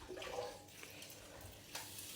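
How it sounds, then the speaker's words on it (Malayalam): Cold water is poured into a bowl of ice cubes, giving a soft, close splashing and trickle that is faint and fairly steady, with no talk. "ആ ഐസ് ക്യൂബ്സിലോട്ട്, ബോൾ ഓഫ് ഐസ് ക്യൂബ്സിലോട്ട് നല്ല തണുത്ത വെള്ളം ഒഴിക്കും."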